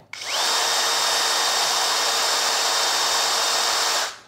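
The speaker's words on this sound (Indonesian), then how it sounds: "tergolong oke nih untuk bor brushless" A Doliz BD636 cordless brushless drill runs flat out in second gear at top speed for about four seconds, a steady high-pitched whir that spins up quickly and cuts off at the end.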